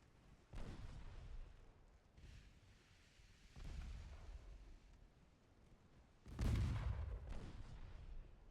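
Warship guns firing in a naval battle in Ultimate Admiral Dreadnoughts: a few heavy, booming salvos at intervals, the last and loudest rolling out over a low rumbling background.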